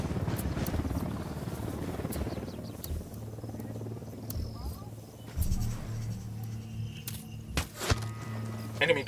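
Helicopter in the shooter game Ghost Recon Wildlands, a rhythmic rotor thump running steadily under gunfire, sharp impacts and bursts of game noise, moderately loud throughout.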